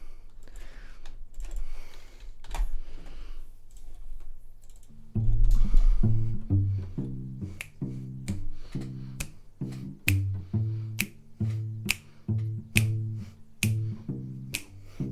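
Sharp clicks, like mouse or keyboard taps, repeat irregularly over a quiet room, with low pulsing music chords coming in after the first few seconds.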